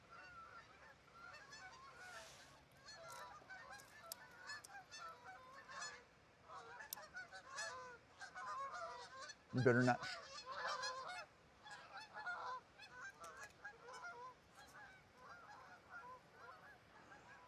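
A flock of geese honks by a river at night, many overlapping calls continuing steadily at moderate distance, with a brief close burst partway through and a few spoken words mixed in.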